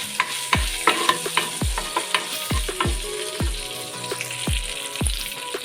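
Whole spices, black pepper and cloves, frying in a pan, a soft continuous sizzle punctuated by a regular series of dull thuds and scrapes from a spoon stirring them, close and moderately quiet, without speech.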